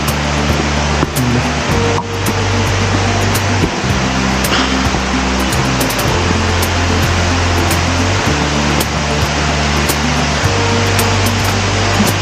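Siriphum Waterfall on Doi Inthanon roars continuously, a dense wash of rushing water noise, with low rumbling tones underneath and no talking.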